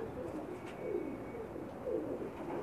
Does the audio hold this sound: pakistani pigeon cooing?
yes